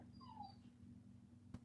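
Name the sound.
dog whimpering in background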